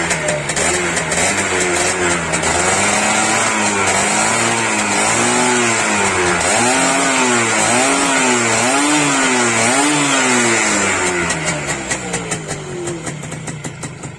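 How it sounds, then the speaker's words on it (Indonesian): Motorcycle engine revved hard several times in rising and falling surges, loud and near, then easing back toward idle; no voices. "Coba saya geber gasnya."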